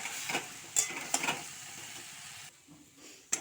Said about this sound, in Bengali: দেখো কচু শাকটা ভাজা হয়ে গেছে